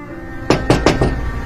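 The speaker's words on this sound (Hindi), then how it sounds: "मुसीबत से हिफाजत के लिए पोलियो की टीम हर बार आपका दरवाजा जरूर खटखटाती है" Four sharp knocks on a door, spaced about a fifth of a second apart, close and clear over a quiet background, made by a polio vaccination team calling at a home.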